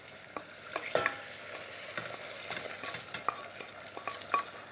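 Rendang spice paste for a Malaysian beef dish fries in a pan, a soft sizzle broken by repeated scraping and stirring knocks, close and moderately loud.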